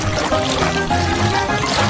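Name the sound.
pouring water onto a cake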